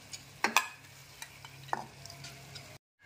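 Soaked masoor lentils and tomatoes are stirred in a frying pan, with a soft sizzle under a few sharp spoon scrapes and clinks, close and moderate, ending abruptly.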